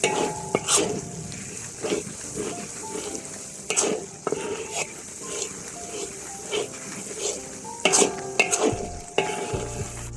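Spices sizzle and crackle steadily in a hot pan while cooking chicken varuval, with repeated scraping and stirring strokes and occasional clinks of a utensil against the pan.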